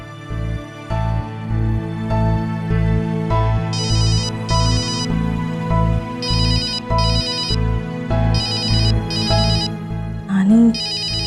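A telephone ringtone from an Indian television drama repeats in steady, bright bursts over a continuous musical bed as a call is placed. It stays fairly loud and close throughout, with a short voice near the end.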